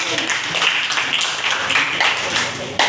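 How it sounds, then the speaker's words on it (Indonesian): Students in a class at SMAS Kartika XIII-1 Ambon clap for group 2 after its presentation, a steady spread of hand claps through the room with some voices mixed in. "Tepuk tangan untuk kelompok 2."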